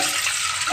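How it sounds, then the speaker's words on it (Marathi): Three litres of water poured into a pot sitting on a gas stove, a steady rushing splash heard up close and alone for under a second. "त्यासाठी मी गॅसवरती एक पातेले ठेवलेले आहे, त्यामध्ये 3 लिटर पाणी घालतीये"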